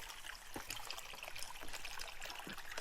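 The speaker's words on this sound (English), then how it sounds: "Listen to the water." Mountain stream water trickles and burbles beneath a small trail bridge near a waterfall, a soft, steady splashing wash with faint bright droplet detail and no voices.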